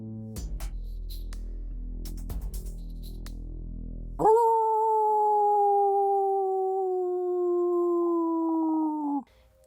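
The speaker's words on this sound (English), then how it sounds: "Did you ever hear a wolf howl on a full moon?" After a few seconds of low humming, a single long wolf howl rises and holds steady for about five seconds, loud and clear, then stops abruptly.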